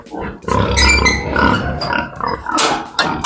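Duroc piglets grunt and squeal in quick, overlapping bursts while feeding, close by and nearly nonstop.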